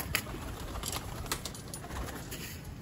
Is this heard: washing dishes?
no